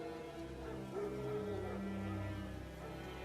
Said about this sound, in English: No. Wild dogs.